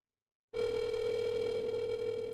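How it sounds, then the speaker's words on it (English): A steady electronic ringing tone starts after a short silence and holds continuously at an even level, fairly faint, with no voices. "Is it ringing? Yeah, it's ringing."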